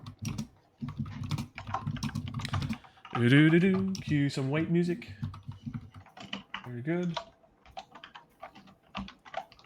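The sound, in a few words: computer keyboard typing in the background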